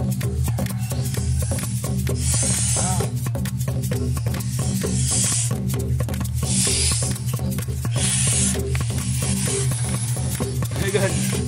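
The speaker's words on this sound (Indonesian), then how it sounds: "Ternyata soang ini bisa mengeluarkan suara seperti kobra." A goose hissing like a cobra gives a continuous harsh, breathy hiss in close rasping surges, with loud bursts recurring every few seconds over low background rumble.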